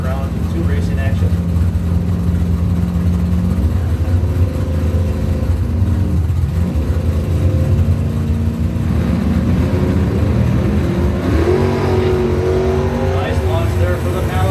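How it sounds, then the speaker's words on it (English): A 1978 Malibu drag race car launching at Brewster's Coney Island Pro Trophy round, loud sustained engine roar with rising pitch as it pulls away, under an announcer's commentary. "Nice launch there for the Malibu."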